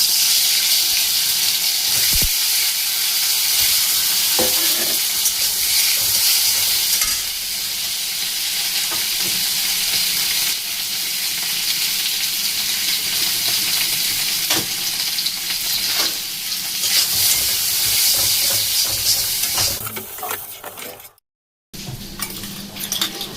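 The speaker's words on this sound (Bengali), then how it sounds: "তার আগে আমি আলুগুলো ভেজে নিই একটু তেলে।" Potatoes fry in oil in a pan with a continuous bright sizzle, broken by occasional scrapes and clinks of a utensil stirring, ending with a brief gap and a renewed burst of sizzling.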